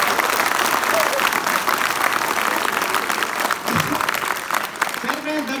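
Audience applause fills the whole stretch as steady, dense clapping from a crowd, with faint voices mixed underneath.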